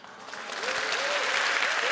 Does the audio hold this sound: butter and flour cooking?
no